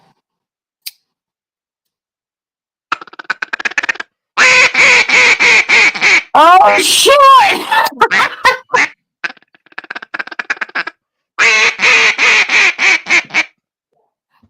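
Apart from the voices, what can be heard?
duck call being blown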